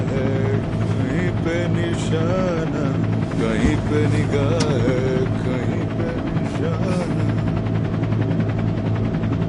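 A helicopter's steady droning roar fills the cabin throughout, with voices and bits of singing heard faintly over the engine.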